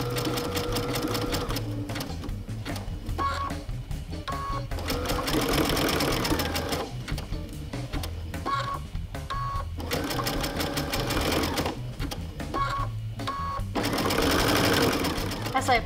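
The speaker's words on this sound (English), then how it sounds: "As I approach my inside corner, I'm going to sew past the corner." A sewing machine runs in bursts, stitching a satin-stitch applique around an inside corner, with short pauses between runs; a voice talks over the steady mechanical whir throughout.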